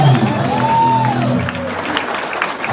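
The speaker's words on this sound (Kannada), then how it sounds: "ಓಕೆ ಇಷ್ಟ ಆಗ್ತಿದ್ರೆ ಜೋರಾಗಿ ಒಂದ್ಸಲಿ ಚಪ್ಪಾಳೆ ಕೊಡ್ಬೇಕಪ್ಪ" Audience applause at a Kannada Rajyotsava celebration at VMware, loud and continuous, with a rising-falling whistle and some cheering mixed in.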